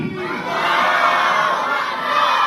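Crowd at a religious gathering loudly chanting the takbir slogan, a sustained roar of many voices shouting together, dense and reverberant from start to end.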